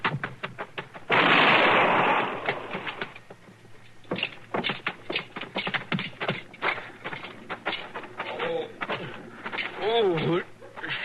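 Gunshots ring out in a Gunsmoke western radio drama: one loud, broad blast early on, then a string of sharp, close cracks and knocks. Voices of actors speak between the shots.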